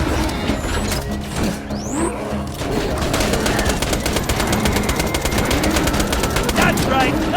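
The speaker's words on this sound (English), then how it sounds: "Sentry gun prime!" Automated sentry gun in Borderlands 2 firing a sustained, rapid mechanical burst of shots that rattles on steadily for several seconds, with game effects layered underneath.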